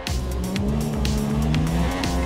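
Racing car in the F1 2017 video game sliding out of a corner, a steady loud engine drone with tire squeal running throughout, no voices.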